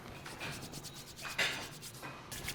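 A raw potato is scrubbed back and forth over a beet-stained cutting board, making a quiet, close, dry rubbing and scraping in irregular strokes, with no voices.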